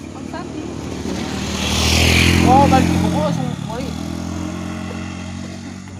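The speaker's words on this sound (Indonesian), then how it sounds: "Nyoba motor anyar." A motorcycle revs and runs close by on a trial ride, its engine rising to a loud peak midway and then holding steady, while people talk over it throughout.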